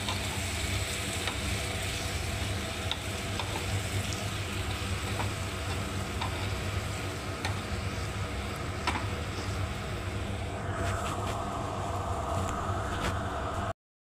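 Fish sizzling and being stirred in a pan while being fried with turmeric, a steady close hiss with occasional light scrapes and a faint, brief whine near the end, no voices.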